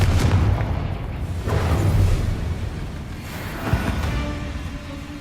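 A booming fire-spell explosion in Hogwarts Legacy opens with a loud deep rumbling blast, then more rolling bursts and a sharp pop follow and trail off into a lingering low roar.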